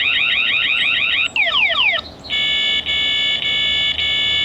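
A Tapo C660 security camera blares its alarm siren outdoors, first rapid rising electronic whoops, then faster sweeping wails, then a steady pulsing high tone broken by brief gaps, loud and piercing, no voices.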